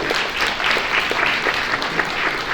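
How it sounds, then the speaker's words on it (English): Steady applause from a crowd at a fundraising event, a dense, even wash of many hands clapping throughout, fairly loud and close, with no talking over it. "give yourselves a round of applause"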